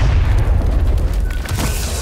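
A drop bomb blast from the Star Wars Battlefront video game, a loud, deep booming rumble that rolls on steadily for about two seconds with dense low-end roar and crackling debris, close and dominant with no clear speech over it.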